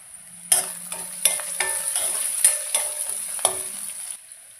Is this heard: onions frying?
yes